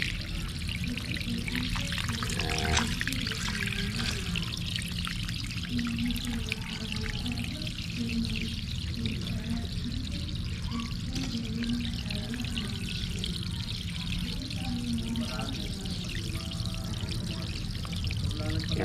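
Water pours steadily and splashes into a potted calamansi plant's soil for a long stretch, a continuous trickling gush with occasional faint background sounds.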